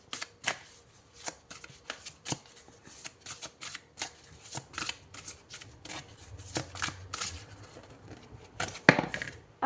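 Tarot cards being shuffled by hand close up: a steady run of crisp riffling snaps and soft slaps, with a few louder flicks near the end and no voices.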